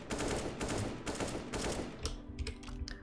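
Controlled bursts from an AK rifle in a first-person shooter video game, with the player shift walking; a dense run of rapid gunfire fills most of the stretch, then a few separate sharp shots follow, loud and close.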